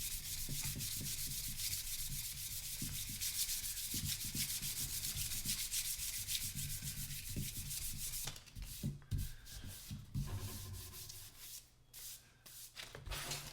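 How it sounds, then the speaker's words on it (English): Fine 600-grit sandpaper rubbing back and forth across a rosewood veneer surface in a steady, raspy rhythm, close up, with a few pauses and shifts in stroke near the end. "This is some 600 grit paper. And do a really fine sanding"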